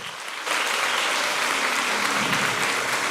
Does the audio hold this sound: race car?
no